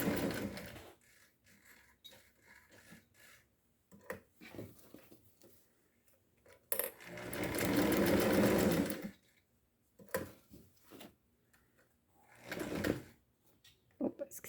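A sewing machine stitches around a square of velcro in short bursts, with one long run of rapid close stitching in the middle. Quiet clicks and handling noises fall between the runs, and a voice talks in the pauses.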